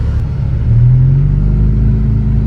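A 2006 Lotus Elise's engine hums and rumbles steadily at low revs during its first drive, a continuous close mid-pitched drone with a slight rise partway through and no talking.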